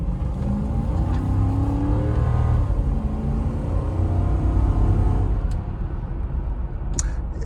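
A Toyota Land Cruiser 100 Series pulls out and accelerates, its engine a low, steady growl building in revs with broadband road and wind rumble, heard from inside the cabin, easing off near the end.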